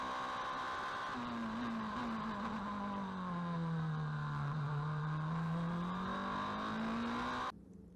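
A GB3 race car accelerates out of the final chicane at Spa, a loud, close engine note climbing steadily in pitch as it pulls onto the straight, then cutting off abruptly at the end.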